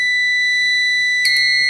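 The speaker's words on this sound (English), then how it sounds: "a few seconds later, this panel will also go into a fire alarm" An activated fire alarm panel sounds a loud, steady electronic alarm tone with high harmonics. A brief extra burst of tones joins it near the end. No one speaks.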